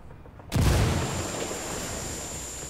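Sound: thrown frag grenade exploding, from video game Ghost Recon Wildlands

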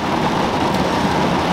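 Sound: heavy rain

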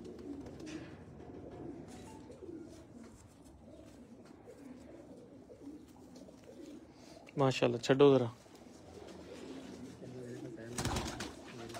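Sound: pigeons cooing

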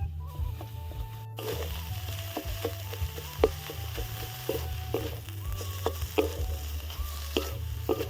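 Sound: pumpkin leaf paste with prawns frying and stirring in pan

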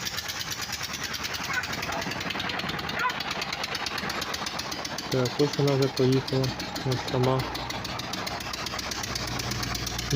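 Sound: walk-behind tractor diesel engine running in ZAZ 968M car

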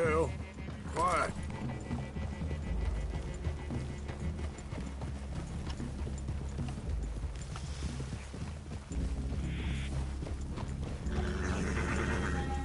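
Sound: horses walking, hooves clip-clopping, in Red Dead Redemption 2 video game

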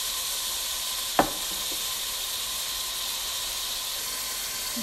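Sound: meat frying in a pot

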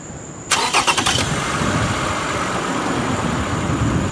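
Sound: car engine cranking and starting during battery test

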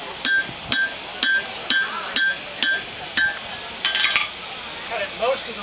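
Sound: hammering to cut off hot iron at a forge

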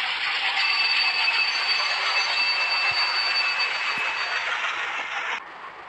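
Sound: WDM 3A diesel locomotive train passing

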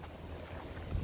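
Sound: wind

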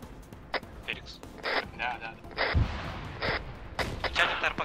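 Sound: gunfire from ArmA 3 video game

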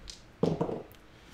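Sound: dice being rolled

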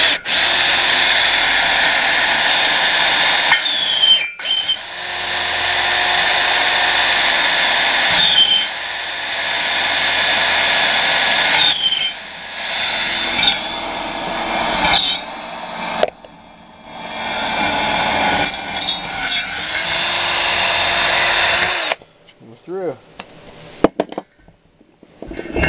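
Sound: drilling Boyesen ports in a Yamaha YT175/Blaster cylinder

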